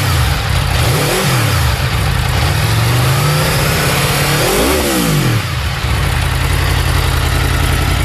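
Aprilia RSV4-based naked motorcycle engine revs hard in two sharp blips that swell and fall back over a loud, gritty idle, close and with no talking.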